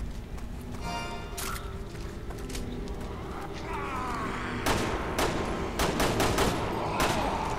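Gunfire against an enemy in Resident Evil 6, Leon's chapter, with sharp shots spread through the clip and clustered into several close bursts in the second half, over steady game background noise.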